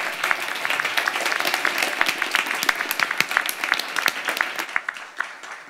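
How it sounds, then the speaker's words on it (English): An audience at a health innovation challenge event claps in sustained applause, dense and even for several seconds before tapering slightly at the end. "Please give a round of applause."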